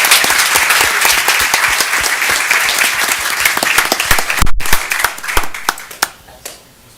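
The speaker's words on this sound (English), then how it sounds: "one more huge round of applause for these amazing artists" A school board meeting audience gives a round of applause for student artists, a loud crowd clapping that thins into scattered individual claps and fades out toward the end.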